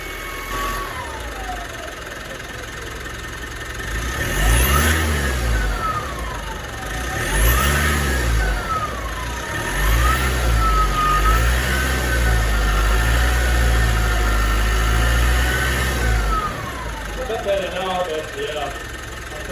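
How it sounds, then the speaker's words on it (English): A cooked turbo on a 2018 Mitsubishi MQ Triton gives a wavering high whine that rises and falls with engine revs, repeated several times over a rumbling motor, with talking throughout. "That's a proper cooked turbo."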